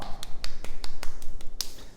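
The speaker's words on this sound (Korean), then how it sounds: "우리 찬양받기 합당하신 하나님께 영광의 박수 올리겠습니다" Children clap at a church's Sunday worship service in a crisp, evenly paced rhythm, roughly nine sharp claps over two seconds, close and fairly loud with no voices.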